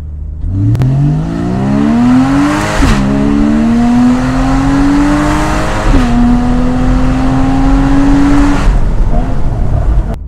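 A sports car engine revs hard and climbs through several gears, each upshift dropping the pitch before it rises again, loud and close throughout.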